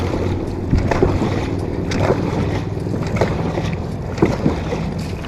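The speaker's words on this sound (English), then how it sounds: "We have to paddle across the river." Dragon boat team paddling across a river, with rhythmic splashing strokes every second or so over steady water and wind noise, close and fairly loud, no talking.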